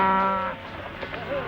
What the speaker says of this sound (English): Those is nice tender cows.